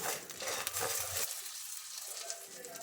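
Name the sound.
frying chana dal and dried red chillies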